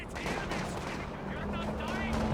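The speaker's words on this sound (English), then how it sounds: "Double heavy mortars just blasting away through the middle." Two heavy mortars in the Company of Heroes 2 strategy game fire and blast steadily in a dense, rumbling barrage of repeated booms, under continuous game noise with a voice talking over it.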